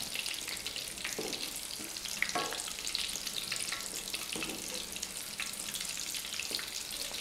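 Fish cutlets fry in a pan with a constant, fairly quiet crackling sizzle, broken by a few soft clinks and shifts as they are turned, with no voices.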